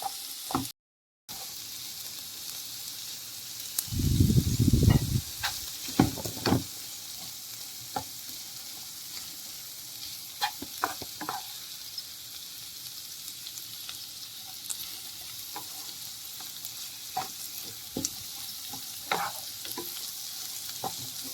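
Long beans stir-frying in a pan for a mezhukkupuratti with onion and chili, giving a quiet steady sizzle, with a few louder bursts of stirring and scraping early on and scattered light clicks of a utensil after that.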